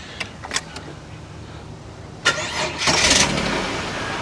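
A few faint clicks, then a Holden VT Commodore engine cranks and catches, settling into a steady idle close by.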